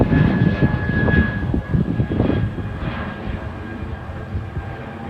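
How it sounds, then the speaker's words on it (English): Airplane engine drone from a plane flying overhead a backyard vegetable garden, a steady broad roar that is loudest at first and then slowly fades as it passes. "Stupid plane."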